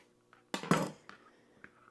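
Knife cutting two slices of bacon into small pieces on a board, heard as a couple of close, sharp chopping knocks with brief clatter, then faint light taps.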